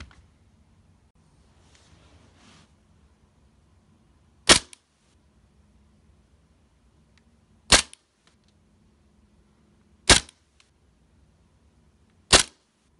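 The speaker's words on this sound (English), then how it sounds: "So now I'm going to go ahead and get into the Chrono again of the German Luger by" A WeTech German Luger green gas airsoft pistol fires four single sharp cracks, spaced a few seconds apart, close and loud over quiet background with faint handling noise between shots.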